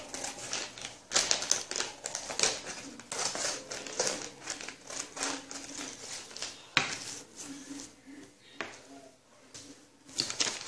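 Paper is cut in half for folding a 16-point shuriken, giving dense crisp crinkling, snipping and tapping sounds close by, in bursts with brief pauses.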